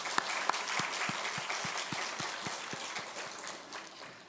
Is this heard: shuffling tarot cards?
no